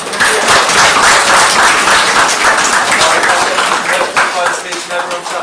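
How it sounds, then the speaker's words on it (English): A large audience claps loudly and continuously at the closing of a World Universities Debating Championship round in Madrid, a dense, sustained burst of applause filling the whole stretch. "If we can have one last round of applause for all participants."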